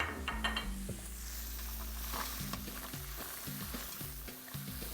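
A pan hisses with a steady sizzle as mussels and fennel fry, punctuated by soft scraping and light clanks of a utensil against the pan.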